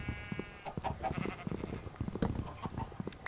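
Minecraft sheep bleat repeatedly in short wavering calls amid a busy stream of game sounds, with clicks and clatter underneath.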